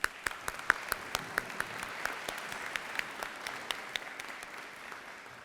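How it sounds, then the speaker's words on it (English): At a beautification conference, an audience gives the board members a quick, moderate round of applause, a soft wash of clapping punctuated by a few sharp, nearby individual claps. "If the board members can stand up so we can give you a quick shout out and a quick applause"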